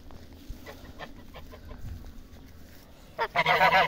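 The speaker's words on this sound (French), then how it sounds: "Voilà, mes petites oies de Toulouse." Toulouse geese honk loudly and harshly near the end, following a stretch of quiet scattered clucks and soft farmyard noise.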